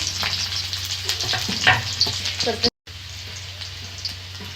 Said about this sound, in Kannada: ಈಗ ಬೆಳ್ಳುಳ್ಳಿ ಹಾಕೊಳ್ತಾ ಇದ್ದೀವಿ ಒಂದು ಗೆಡ್ಡೆ ಬೆಳ್ಳುಳ್ಳಿ ಅಷ್ಟು ಬಿಡಿಸ್ಕೊಂಡಿದ್ವಿ